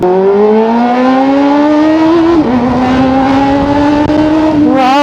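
A Kawasaki ZX4RR motorcycle fitted with a new exhaust and a 13T front sprocket, its engine loud and close, holding a high steady rev with a slight dip and rising pitch.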